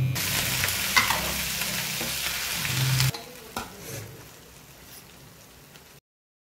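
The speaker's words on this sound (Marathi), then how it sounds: "इथे जो बारीक केलेला मसाला आहे काळा मसाला, तो तेलामध्ये मस्तपैकी परतून घेऊ." Black masala spice mix frying in hot oil for a spicy mas vadi curry, a dense sizzle with stirring that runs loud for about three seconds, then drops to a softer, fading crackle before silence.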